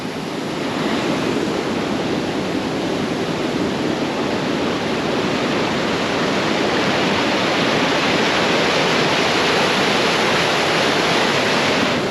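Continuous broadband roar of rushing water from a waterfall, steady and fairly loud throughout with no pauses.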